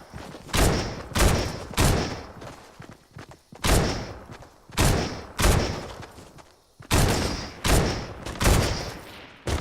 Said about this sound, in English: over here, I actually hit a few shots